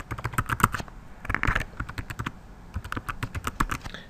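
Fingers type a name and email into an online sign-up form on a computer keyboard, with quick bursts of close, crisp key clicks separated by brief pauses.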